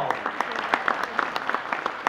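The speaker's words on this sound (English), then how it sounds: "Give them a big round of applause as well." An audience applauds dancers at a Dancing with the Stars dance competition, with a steady wash of clapping punctuated by sharper individual claps at close range.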